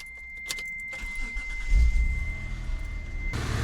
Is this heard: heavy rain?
no